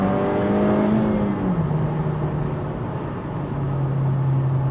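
Engine of a Honda Civic Type R GT FK2 with a 306 bhp VTEC turbo, heard from outside as a throaty, steady drone whose pitch dips and settles, loud and continuous with no talking.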